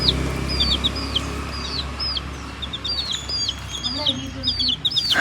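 Chickens being fed rice near a dog, with repeated high chirps and peeps over a steady outdoor hum and a few low clucks near the end.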